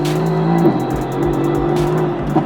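Mercedes-AMG GT S at full throttle, its engine holding a loud, steady roar with a rising tone across the pull and a short break where the gear changes.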